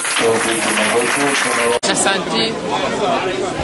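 A church congregation at a preaching service applauds the Lord with dense, continuous clapping and crowd noise that is loud throughout, dipping briefly midway, with voices mixed in.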